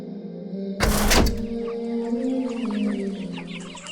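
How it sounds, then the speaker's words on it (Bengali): Small chickens of about 800 to 900 grams in a poultry farm shed, a loud thump or door bang followed by a steady chorus of clucking and chirping fowl nearby. "এখানে সবগুলো ছোট ছোট মুরগি, 800 গ্রাম 900 গ্রাম এরকম।"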